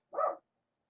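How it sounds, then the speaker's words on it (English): A single short bark from a pet dog in a home, close and sharp, followed by near silence. "I'm really upset that she keeps barking during the podcast"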